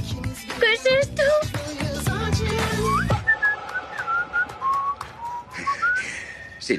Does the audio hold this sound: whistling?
yes